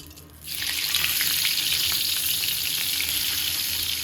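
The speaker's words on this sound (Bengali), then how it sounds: "এই মাছগুলো ফুটে দিলে পর ঠাস ঠাস করে ফুটে" Fish dropped into hot oil in a kadai bursts into a loud, sudden sizzle after a brief quiet start, then crackles and spatters steadily up close.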